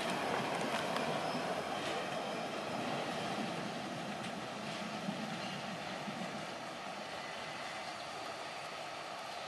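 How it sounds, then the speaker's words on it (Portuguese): A long freight train rolls steadily through a mountain tunnel on the Serra do Cadeado line, giving a continuous, fairly loud rumble and wheel noise that fades slightly toward the end, with no voices. "Trem comprido mesmo."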